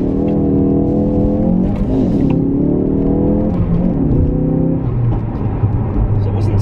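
A Ford Focus RS launches hard in first gear using launch control, the engine note rising loudly and steadily as the car accelerates, with continuous road and wind noise throughout.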